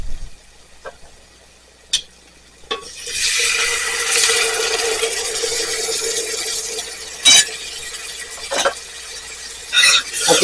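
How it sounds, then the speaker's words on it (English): Half a can of Rotel tomatoes is added to vegetables sauteing in a pot for a Cajun meatball stew, giving a bright wet sizzle that swells and holds, broken by a few sharp clinks of a can or utensil against the pot. "I'm going to add about a half a can of Rotel."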